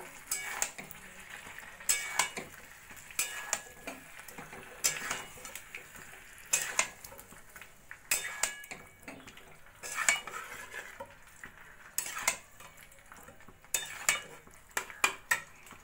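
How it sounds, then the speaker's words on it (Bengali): A spoon scrapes and clanks against a pan as fried cauliflower is tossed with spices, with sharp metallic knocks every second or two over a soft sizzle, close by. "ফুলকপি ভালো করে মশলার সঙ্গে মিশিয়ে নেব।"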